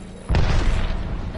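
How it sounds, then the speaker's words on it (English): A grenade blast in Apex Legends hits as one sudden, heavy boom partway through, its rumbling roar lingering and fading over the following second. "Grenade!"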